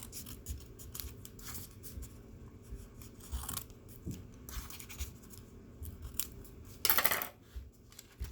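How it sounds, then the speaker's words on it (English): Scissors slide under small paper pockets while folding a paper plane, giving soft close scratching and rustling with a few quiet clicks and one louder crinkle. "Next we just slide the scissors underneath these"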